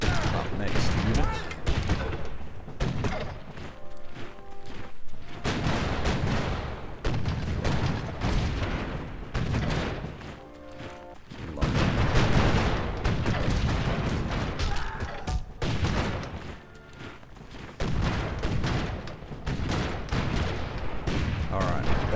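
Artillery barrage in the strategy game Civilization 4, a dense run of booming blasts and rapid gunfire bursts that repeats across the stretch, loud and continuous, with a voice talking over part of it.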